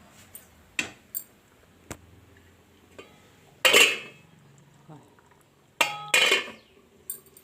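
A metal lid set on a pot of simmering goat mutton curry, with a couple of bright clanks and scrapes among lighter kitchen clicks and a voice talking.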